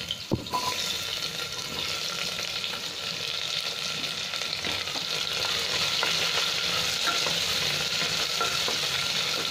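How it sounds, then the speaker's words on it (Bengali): Onions and green chillies frying in oil in a pan, a soft continuous sizzle with faint stirring clatter, steady and fairly quiet, no voices. "এই পেঁয়াজটা একটু ভেজে নেবো লাল করে"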